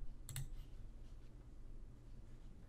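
A single computer mouse click sounds once in a quiet room as a software dialog box is answered, then only faint background hiss.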